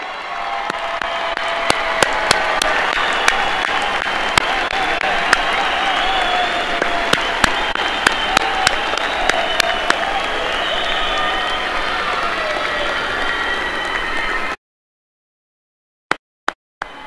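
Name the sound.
graduation ceremony crowd applause for parents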